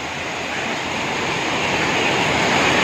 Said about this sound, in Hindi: और झरने देखो आप